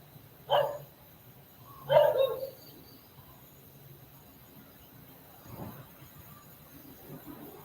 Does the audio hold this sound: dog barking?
yes